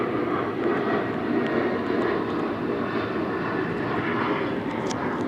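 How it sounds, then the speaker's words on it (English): A Southwest Airlines plane from Ontario International Airport passes overhead above a plaza, its engine a steady, broad roar with no voices. "That's Southwest Airlines flying over the B&G Plaza"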